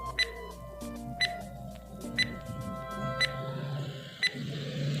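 A quiz countdown timer ticks along steadily: sharp, bright clicks land about once per second over a soft electronic music bed, with no voices.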